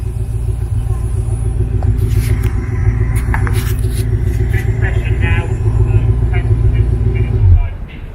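A TWR Ultima GTR and other race cars run on a track during a Goodwood trackday, a steady heavy engine rumble that cuts off sharply near the end, with people talking over it.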